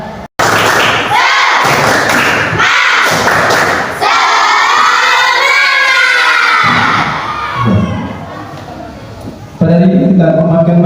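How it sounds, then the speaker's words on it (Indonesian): A school class does the tepuk semangat spirit chant in an Indonesian classroom, with loud rhythmic bursts of clapping and desk thumps mixed with children shouting the chant together, close and energetic. "Berikan tepuk semangat"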